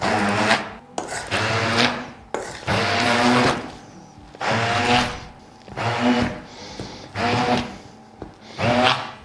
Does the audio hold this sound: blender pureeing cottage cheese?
yes